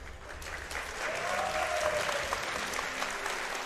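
Crowd at a StarCraft II tournament applauding, a dense steady wash of clapping that swells and holds for a few seconds, fairly loud with no talk over it.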